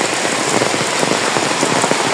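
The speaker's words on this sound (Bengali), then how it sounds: "পড়তেছে বৃষ্টি, থামার নাম গন্ধ নাই" Heavy rain pouring down steadily on flooded ground, a dense, loud hiss of drops striking surfaces without pause.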